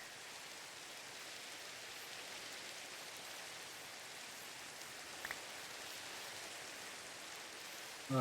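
Steady rain from the Minecraft video game, an even, wide hiss of falling drops that stays constant and fairly quiet throughout, with no talking.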